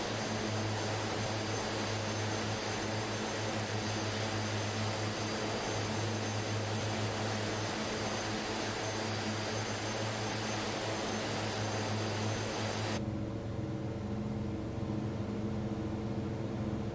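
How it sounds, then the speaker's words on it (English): Cabin of a de Havilland DHC-6-100 Twin Otter in flight fills with a loud, constant engine and propeller drone, a dense steady roar with a low throbbing hum that drops in brightness near the end. "Getting some engine views. It's not a quiet plane, Twin Otter."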